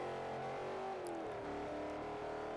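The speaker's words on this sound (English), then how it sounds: "The car does sound pretty good." A car engine in the racing game Forza Horizon drones steadily, its pitch sliding down as the revs drop and then holding, loud and clear with no talking.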